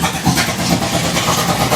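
A 503 cubic inch big block Ford V8 in a gasser drag car runs at a loud, rough, steady idle close by, with no voices.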